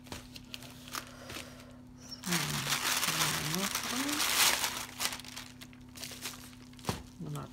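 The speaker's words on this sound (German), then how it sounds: "ich hole jetzt mal alles raus, damit das hier nicht so rumknistert" Plastic packaging of diamond painting kits crinkling and rustling as items are unpacked, bursts of crackling in the middle of the stretch, with a person talking over it.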